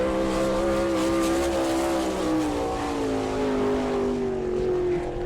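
Sprint car from the All Star Circuit of Champions running a qualifying lap at Attica, Ohio, its engine a loud, sustained high-revving drone that slowly drops in pitch as it passes, with track announcing between laps.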